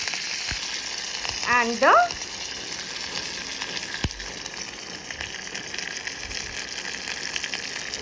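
Curry leaves, red chili and crushed garlic fry in hot oil, a steady close sizzle with a brief louder crackle and hiss early on, while a voice speaks a couple of words.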